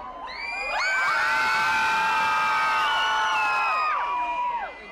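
Concert audience screaming and cheering loudly, a sustained wall of high-pitched children's shrieks and whoops that swells in, holds for several seconds, then drops away.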